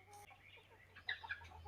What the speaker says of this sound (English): they are mingling outside with all the big chickens now